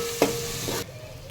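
A tomato dropped into mutton keema frying in a pan gives a brief, close thud and stir followed by a steady sizzle that cuts off abruptly, with no talk.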